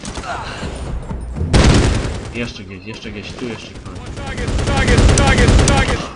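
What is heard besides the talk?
gunfire in video game Medal of Honor Warfighter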